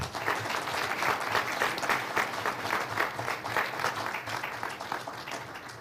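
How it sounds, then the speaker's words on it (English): Steady audience applause for a conference panel, many hands clapping continuously at a moderate, slightly distant level with no one speaking over it. "I think we should have a round of applause for our panelists"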